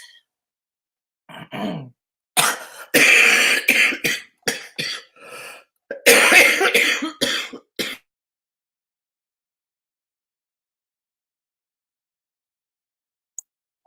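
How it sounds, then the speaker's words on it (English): A person has a coughing and choking fit: a run of harsh, close coughs, sighs and throat clearing in irregular bursts over several seconds, then quiet. "I've been choking more and more lately"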